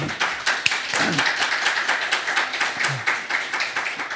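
A church congregation at a Sunday service claps to welcome a new pianist, and dense, steady applause fills the room without a break for several seconds.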